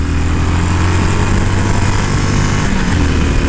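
Harley-Davidson Iron 883 motorcycle engine holding a loud, steady, close rumbling drone at high revs, a dense continuous roar with no break and no voices.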